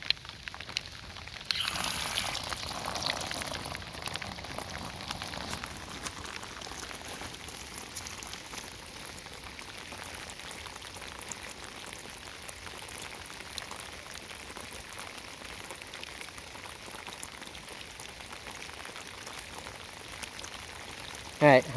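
Water rushes out of an opened water tank as a steady, hissing flow that starts abruptly and keeps going at an even level for about twenty seconds.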